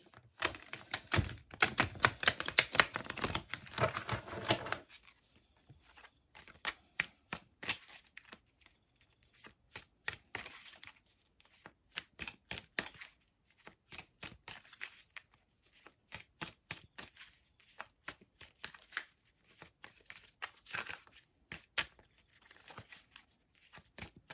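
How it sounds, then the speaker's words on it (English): A deck of tarot cards is riffled in a dense burst, then follows a long run of quick, crisp card flicks and taps close by, with no voices. "let's shuffle out a few cards, see what the vibe is for you guys."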